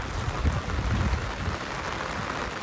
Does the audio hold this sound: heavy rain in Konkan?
yes